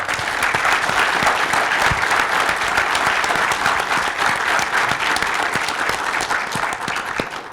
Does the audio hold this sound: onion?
no